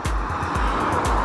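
Cars pass on a road during preparation for a 300 km bike ride, their tyres and engines whooshing by in quick repeated sweeps, loud and close with steady traffic rumble and no voices.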